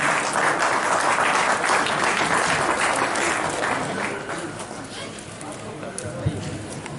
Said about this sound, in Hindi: ऊपर जोरदार तालियां